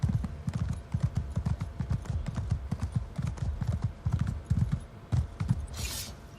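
Hooves of a Dwarven armored war horse in Elder Scrolls Online clip-clop steadily in a quick, close, continuous rhythm, with a brief whoosh near the end.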